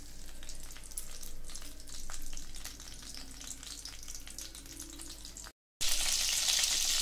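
Long-cut green chillies fry in oil for a Godavari-style fish curry, a continuous sizzle that briefly cuts out, then returns brighter and louder.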